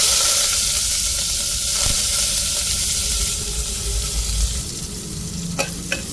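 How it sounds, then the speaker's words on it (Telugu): Onions with curry leaves fry in hot oil in a pressure cooker, giving a steady close sizzle with stirring scrapes and a few sharp clicks near the end, and no voices. "ఆనియన్స్ మంచిగా ఫ్రై చేసుకోవాలి"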